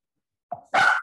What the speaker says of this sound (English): My dog's gonna entertain us today.